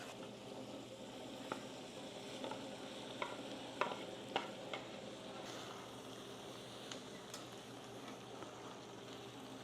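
Canned corned beef hash frying in a pan on a breakfast stove, a steady low sizzle with scattered sharper crackles and pops, fairly quiet and close, with no talking.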